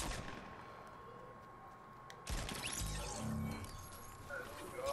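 Gunfire in the Fortnite video game, a burst of shots breaking out midway and continuing as a dense rattle under background game noise.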